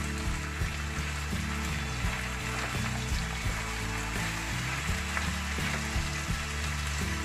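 Kikiam slices fry in a pan for chopsuey, a steady hiss of sizzling oil up close with a low rumbling background and faint soft clinks.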